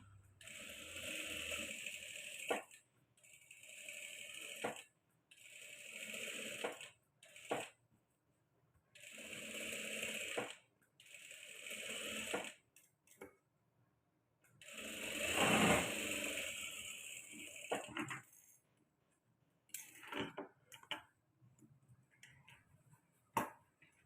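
A sewing machine stitches a blouse in repeated whirring runs of rapid needle clatter, each lasting a few seconds and separated by quiet pauses, heard up close with no talking.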